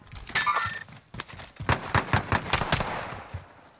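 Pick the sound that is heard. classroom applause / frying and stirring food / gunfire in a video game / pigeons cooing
gunfire in a video game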